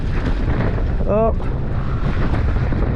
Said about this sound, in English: Look at the wind. This is crazy weather.